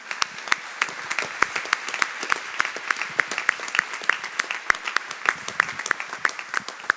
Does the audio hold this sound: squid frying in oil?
no